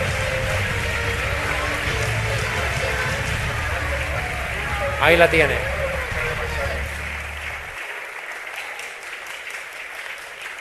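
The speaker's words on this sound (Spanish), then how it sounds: "Den un aplauso fuerte al Señor." A church congregation applauds for the Lord during a sermon, a dense clapping wash with a pastor's voice talking over it, cutting off sharply near the end.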